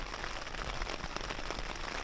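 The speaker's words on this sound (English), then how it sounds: "So the rain's actually really picked up." Rain drums on a Naturehike Mongar Pro 1 tent, a dense, steady patter of countless close drops forming a continuous hiss with no talking.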